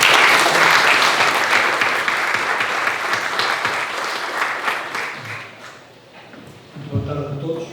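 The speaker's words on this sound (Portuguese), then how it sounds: "Uma salva de palmas," An audience at a library book event applauds a book's author, dense and loud at first, then thinning out as claps trail away, with a few voices and shuffling near the end.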